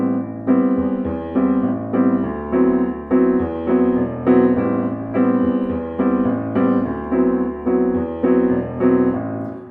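Bossa nova jazz piano rhythm pattern played on piano, chords repeating in a steady syncopated groove with a bass note under each bar, clear and close for nearly ten seconds without talk.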